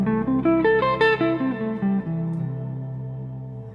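Guitar arpeggio built from a minor triad on the sixth over the root, picked quickly up and back down the strings with a touch of effects and reverb, ending on a ringing low note, close and solo.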